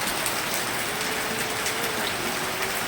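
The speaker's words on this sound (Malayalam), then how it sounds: "പെട്ടെന്ന് തന്നെ നല്ലൊരു പെരുമഴയും പെയ്തു കേട്ടോ" Heavy monsoon rain pours steadily in a village setting, a dense continuous hiss with no voices.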